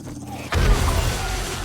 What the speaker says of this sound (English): You can also die to that explosion.